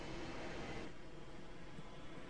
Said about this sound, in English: I didn't realize it was a jet engine spooling up